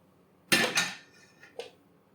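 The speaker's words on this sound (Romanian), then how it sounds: "Luăm oala și o punem înapoi pe foc." Metal pot clanking down onto a stove while making Romanian fish soup, two close, bright clattering hits followed by a softer clink, then quiet.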